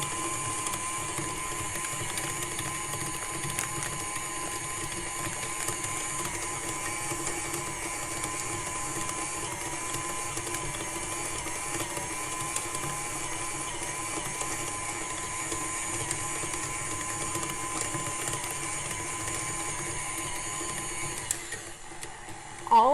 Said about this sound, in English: It's going in to my stand mixer.